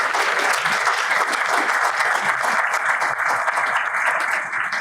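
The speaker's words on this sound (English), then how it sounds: "Give him a round of applause." Sustained audience applause at a congressional forum with Congressman Seth Moulton, even and steady throughout, a dense wash of many hands clapping at moderate volume with no talk.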